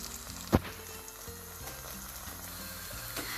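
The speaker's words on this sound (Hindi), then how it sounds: "इसको थोड़ी देर एक साइड पे पकाते हैं" A paratha cooks on one side in a hot pan, giving a low, steady sizzle with a single sharp knock near the start and a faint tap toward the end, no voices.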